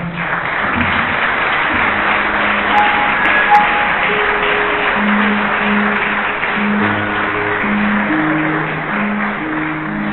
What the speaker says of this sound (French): je voudrais qu'on puisse les voir et que nous puissions les applaudir tous